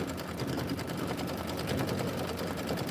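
An embroidery machine runs steadily while stitching a soda bottle design in buttercup thread, a continuous close, even mechanical whir with a rapid needle rhythm and no talking.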